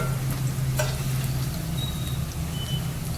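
Stuffed spiny gourds (kankoda) fry in hot oil, giving a continuous dense sizzle with a low steady hum underneath and one brief clink near the start, no voices.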